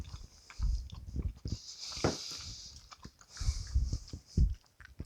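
Close, soft chewing and biting on a piece of sausage from spicy Creole jambalaya with shrimp, wet mouth sounds coming in irregular bursts with short pauses and no talk.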